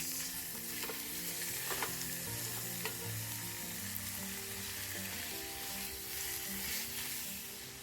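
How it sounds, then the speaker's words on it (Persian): Steady, loud sizzling of 500 grams of ground meat and onions frying in a pan, with occasional stirring scrapes, continuous throughout and no talking. "500 گرم گوشت چرخ کرده بریزید و تفت بدید"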